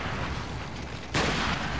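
Gunfire from the video game Resident Evil 4, a dense continuous crackle of shots with booming low end that swells louder and brighter partway through, with no talking over it.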